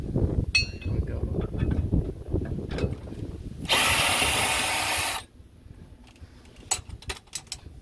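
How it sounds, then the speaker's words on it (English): An electric drill spins out the bolts of a 1999–2007 Ford F-series spare tire hoist, one loud steady whir lasting about a second and a half, surrounded by clinks and handling noises. "So now you can get your electric drill and set it up and get those bolts out."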